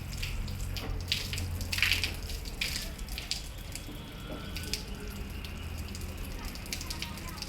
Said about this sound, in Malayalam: ഞാനിങ്ങനെയാണ് മേളിലേക്ക് വെള്ളം ഒഴിക്കുന്നത്